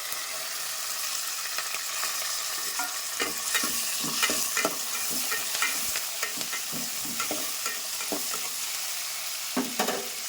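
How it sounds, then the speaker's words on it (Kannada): Onion, garlic and curry leaves sizzle in hot oil as tempering for Andhra-style pappu charu, with steady frying crackle and repeated close scrapes and clinks of stirring, no voices. "ಇದೆಲ್ಲವನ್ನು ನಾನು ಹಾಕಿ ಸ್ವಲ್ಪ ಕೆಂಪಗಾಗುವವರೆಗೆ ಇದನ್ನು ಫ್ರೈ ಮಾಡಬೇಕು"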